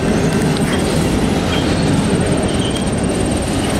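A train rolls past on the Lake State Railway near Clio, Michigan, a loud continuous rumble with steady wheel noise and faint higher tones above it.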